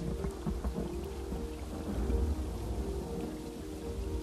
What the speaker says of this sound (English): Ooh. It's storming.